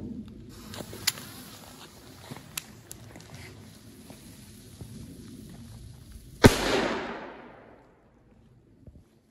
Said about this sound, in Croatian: Sljedeća petarda meni draga jeste, znači Cobra 2, sad ću vidimo kako ona puca.